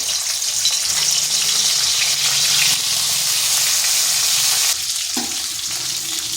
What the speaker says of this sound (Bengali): মাছের মাথাগুলো ভেজে নেব।